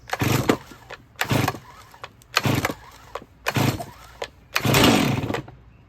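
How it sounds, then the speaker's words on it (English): A Stihl chainsaw is pull-started five times in a row, each sharp rasping pull a brief loud burst with short gaps between them, and the last pull rings out longer as the engine begins to fire. "Put your foot through, hold the saw down, and pull until it starts to fire."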